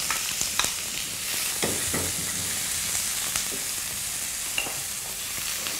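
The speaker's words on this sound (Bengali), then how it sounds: "শুকনা মরিচ একটু ভেজে নিতে হবে" Dried chilies and onions fry in a pan while preparing Dhaka-style paneer, giving a steady broadband sizzle with scattered crackles and occasional stirring clicks, close and alone without voices.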